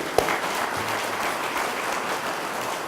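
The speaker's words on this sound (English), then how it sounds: "I believe everyone involved deserves another round of applause." A crowd at a small business celebration event applauds steadily, a dense, continuous wash of clapping hands that holds at an even level throughout with no voices on top.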